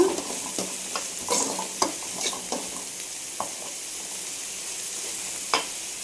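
Onions sautéing in a pan over the stove, with okra frying alongside: a steady low sizzle and hiss with soft scraping stir strokes at irregular intervals, close and fairly quiet, no voices.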